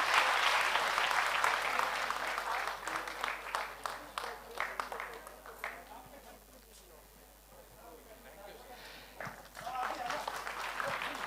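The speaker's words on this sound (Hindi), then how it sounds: "तालियां बजाइए सब, तालियां बजाइए।" An audience at a Dev Anand quiz event in Jaipur bursts into brisk clapping that thins out to scattered claps, then picks up again briefly, with voices mixed in.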